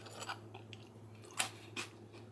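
Close, quiet crunching of freeze-dried sweet chili corn nuts being chewed, several crisp bites in an uneven rhythm over a low steady hum, with no talking.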